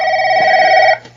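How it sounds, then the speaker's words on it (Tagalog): A telephone bell rings in a steady, loud trill for about a second at night, then cuts off, leaving a quiet room. "Sagutin mo ang telepono."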